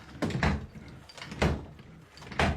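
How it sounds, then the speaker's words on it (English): A drawer is slammed shut several times inside a house, giving sharp wooden thuds with short rattling tails, spaced about a second apart and fairly close. "Even if I slam the drawer, sorry, it's not coming down."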